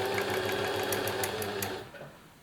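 Serger (overlocker) sewing machine running at speed with a loud, dense mechanical whirr and rapid stitching clatter, then winding down as it stops.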